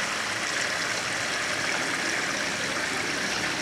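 Water drains from the bottom of a pool filter as the pool is opened, a steady broadband rushing and trickling stream that runs continuously and fairly close, with no talk over it.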